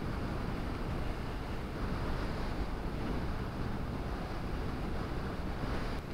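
Steady, dense wind rumbles and buffets against the microphone throughout, loud and unbroken, with no voices, on a Suzuki Burgman 125 EX scooter ride by Laguna Lake, Metro Manila.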